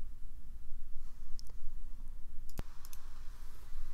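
A single sharp computer mouse click stands out against a steady low background hum, with a couple of faint ticks around it in an otherwise quiet room.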